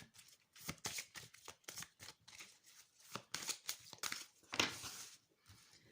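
Oracle cards being shuffled by hand in a run of quick, crisp riffling bursts that start and stop repeatedly, close and clear, with no talking over them.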